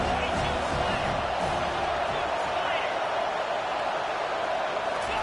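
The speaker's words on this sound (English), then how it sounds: "this crowd is turning it up a notch" A college football stadium crowd during a Tennessee Volunteers versus Texas A&M game roars steadily, a dense, loud wash of cheering and noise that holds at full volume throughout.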